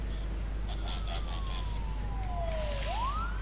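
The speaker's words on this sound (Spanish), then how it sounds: "mi ambulancia está recogiendo." In SimCity 5, a game ambulance's siren glides downward in a long faint sweep, then turns sharply upward, heard at a distance over a steady low hum with a few soft chirping blips early on.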